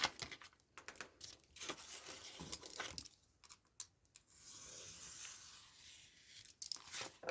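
Paper being cut for a spooky-themed craft, a series of crisp snips and crinkly rustles close by, some in quick bursts and others spaced out, with no talking.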